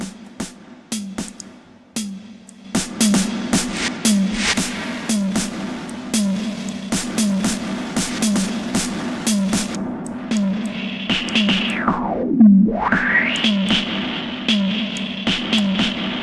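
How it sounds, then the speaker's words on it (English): A rhythmic pulsing beat is washed in shimmer reverb and gritty noise box distortion, with a heavy distorted tone sweeping sharply down and back up near the end. "let's put noise box right after this to mess it up with distortion"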